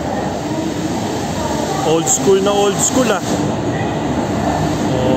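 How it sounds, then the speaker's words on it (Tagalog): A train pulls into a station in Solapur, India, a steady rumble of railcars and rolling wheels with brief screeching, while someone talks over it throughout. "Ayan na mga katropa ang ating tren."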